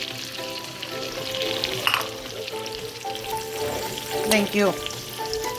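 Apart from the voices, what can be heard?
onions sizzling in a frying pan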